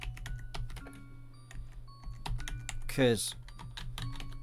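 Computer keyboard keys pressed in quick irregular bursts, a close, crisp clatter of clicks, with a voice briefly speaking over the typing partway through.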